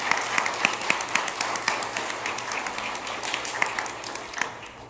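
Audience applause at a Friday evening Kabbalat Shabbat gathering, a steady wash of many hands clapping at moderate distance, sustained for about five seconds with no voices over it.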